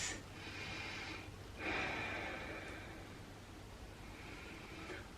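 Slow, deep breaths drawn in and let out during a yoga stretch for the neck and shoulders, a few airy inhales and exhales close by with no talking.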